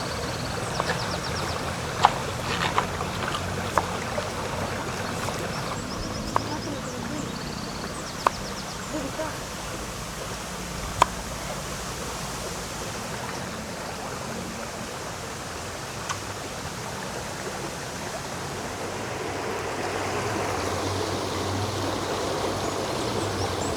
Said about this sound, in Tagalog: So nandito tayo sa ilog, payapa, walang ibang tao kundi tayo lang.